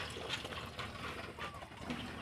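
Water gushing and splashing from a manually operated water pump, a steady broadband wash with small surges, close and fairly loud, with no talk over it.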